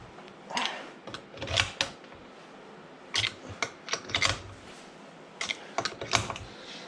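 Wrench clicks and ratcheting taps while bolts are cranked tight on a Stihl MS360 chainsaw during a rebuild, coming in several short irregular bursts of sharp metallic clicks, close and fairly quiet, with no talking.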